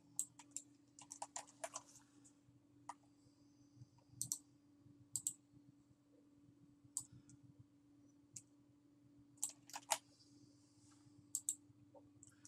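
Text being typed on a computer keyboard: scattered bursts of sharp, close key clicks with pauses between, over a low steady hum, no talking.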